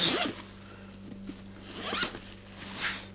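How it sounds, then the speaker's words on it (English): A thermal liner is unzipped from a Helstons Turner leather jacket, giving several short, close zipper rasps in quick bursts, quiet and clear over a faint background hum. "If I zip the liner out,"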